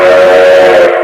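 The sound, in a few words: train whistle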